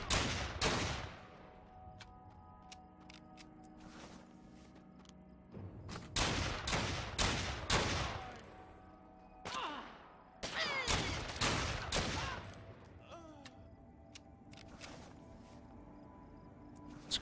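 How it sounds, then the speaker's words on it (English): Guns fire in the video game Fallen Earth in loud, sharp bursts of rapid shots, some single cracks and some clustered volleys, separated by quieter gaps over about seventeen seconds. "That these guys are using guns."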